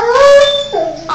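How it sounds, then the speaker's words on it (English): A dog, called Cole, howls nearby in two drawn-out, wavering cries. The first is long and sliding, then a shorter rising wail follows. "do you hear the howling?"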